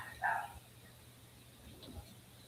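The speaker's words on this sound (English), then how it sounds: "Puppy dog doesn't normally bark like that" A dog gives one short, faint bark at a distance, followed by a low steady background hum and near silence.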